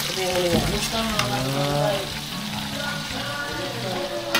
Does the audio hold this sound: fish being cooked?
yes